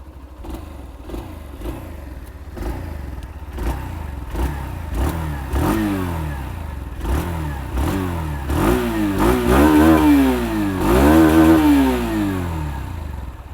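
Hero Xtreme 160R motorcycle exhaust, heard close up as about a dozen throttle blips, each rising and falling in pitch and growing louder and longer toward the end over a steady idle.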